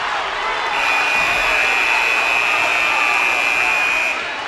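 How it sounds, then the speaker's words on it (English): A basketball crowd at a boys' high school game in a gym erupts in loud, sustained roaring cheers with a steady buzzer-like tone held over the noise, fading slightly at the end. "And the crowd erupts."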